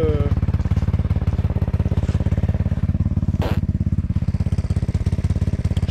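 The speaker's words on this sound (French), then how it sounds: "entendre le ronronnement complet de la moto" A motorcycle engine idles close by, a steady low rapid thumping pulse throughout, with a brief sharp clatter midway.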